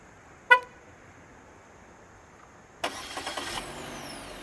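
A 2018 Chevrolet Sonic hatchback LT with a 1.8-litre engine starting by remote start: a short chirp sounds first, then after a pause the engine cranks and catches with a few quick pulses before settling into a quiet idle.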